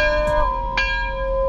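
A single loud bell strike rings out and sustains as a clear, steady metallic tone with a bright ringing overtone, alone and close, fading only slightly over a second and a half.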